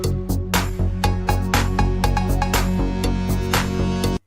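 An 80s-style electronic track with a steady programmed beat and sustained synth bass lines, built around old demo vocals, playing loud and continuous before cutting off abruptly at the end.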